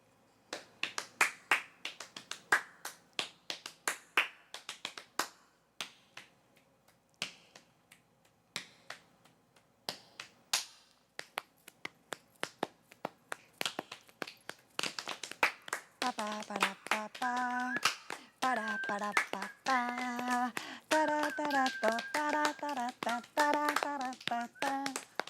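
Body percussion of sharp finger snaps and hand claps, close and crisp, sparse at first then quickening; a singing voice joins over the snaps in the later part.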